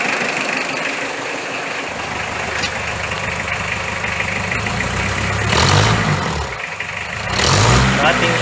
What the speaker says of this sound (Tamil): அப்படியே நம்ம அதே சைலன்சரில் போய் சைலன்சர் கிட்ட எப்படி சவுண்ட் வருதுன்னு பாருங்கள்.